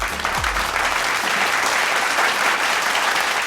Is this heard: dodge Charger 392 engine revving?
no